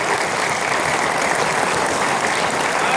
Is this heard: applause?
yes